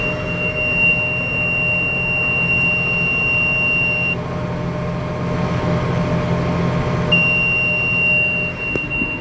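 A bean planter's seed monitor alarm in a tractor cab, a long high electronic tone that sounds, stops, then resumes over a steady engine drone.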